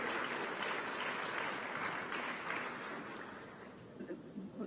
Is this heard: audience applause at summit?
yes